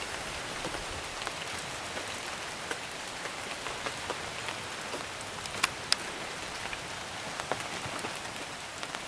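Steady rain falls at a Lake Superior beach campsite, a dense continuous patter of drops on surfaces with occasional sharper close taps, fairly soft and unbroken throughout with no voices.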